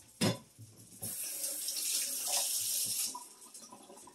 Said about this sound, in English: you're going to take your soup can and you're going to fill it up with water